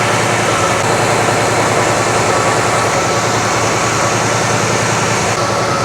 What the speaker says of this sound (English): it's just gonna have an exhaust leak right there.